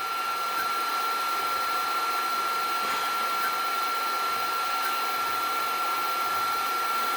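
Snapmaker 2.0 machine jogging its rotary tool head, a continuous steady whirring hum with a high electronic whine throughout, no voices.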